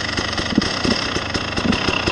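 A 2019 KTM 300 TPI two-stroke motorcycle, a Six Days edition, runs warm at a steady idle with a rapid, buzzy throbbing pulse, close and loud throughout.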